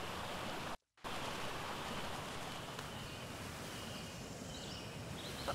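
Small waterfalls splash steadily in the ARK Aquatica game world, a continuous broadband rush of falling water that cuts out briefly near the start and then resumes at an even level.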